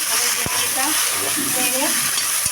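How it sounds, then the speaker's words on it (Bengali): Okra (bhindi) frying in a pan with salt and turmeric, a loud continuous sizzle with a couple of knocks from stirring, close up. "আমি ভেন্ডিটাই ভাজা দিয়েছিলাম"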